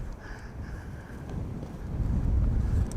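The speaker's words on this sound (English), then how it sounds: "Wind is picking up here." Gusty wind at Amsterdam Schiphol Airport buffets the microphone in a steady low rumble that swells louder toward the end, with no voices.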